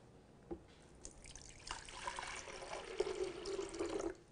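Water trickles and splashes as a small amount is poured in a kitchen to prepare a garlic remedy, faint at first and then a steadier pouring stream, with no talking.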